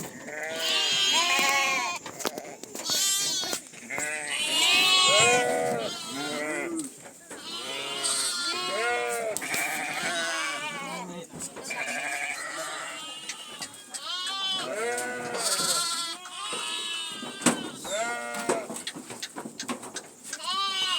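Sheep bleat repeatedly at close range, a flock's cries overlapping almost continuously with a few goat-like calls mixed in, loud and layered throughout.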